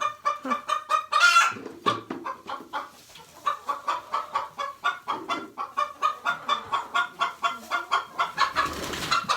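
Laying hens cluck and chatter in a busy, rhythmic flock, close and loud, with a few sharper squawks standing out and no people talking.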